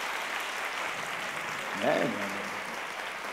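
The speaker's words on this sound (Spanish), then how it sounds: "Lo que tenéis que hacer todos es aplaudir." An audience applauds at a children's puppet festival Christmas show, steady clapping throughout under a voice speaking briefly.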